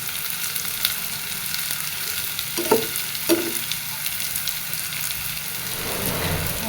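Chopped onions frying in a pan for a fish curry with ridge gourd and potato, giving a steady low sizzle throughout with two brief clinks of a utensil near the middle.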